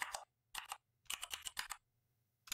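Keys clatter on a computer keyboard as someone types into a search box. The quick close clicks come in three short bursts separated by pauses, quiet and with no talk.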